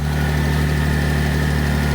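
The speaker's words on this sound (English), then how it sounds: "Let's listen to that valvetrain engine." Close, steady idle of a 2025 Ram RHO truck's Hurricane engine on a cold morning, a smooth continuous hum with an even, low mechanical valvetrain tick and no other sounds.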